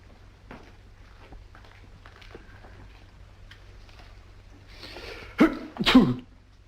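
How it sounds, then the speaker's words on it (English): A quiet room with faint rustling, then a sudden loud sneeze followed quickly by a second, close by. "Gesundheit."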